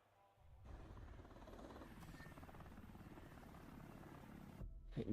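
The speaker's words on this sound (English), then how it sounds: "Helicopters, you know, we haven't seen that in a while" A video game helicopter's steady rotor thrum and engine buzz, from a Rainbow Six Siege X trailer, fairly close, holding constant before cutting off abruptly near the end.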